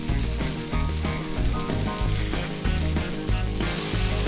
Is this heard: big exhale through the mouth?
no